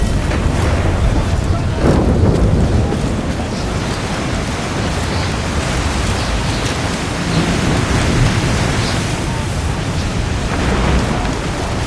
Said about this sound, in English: Not really something you would want to do in the middle of a storm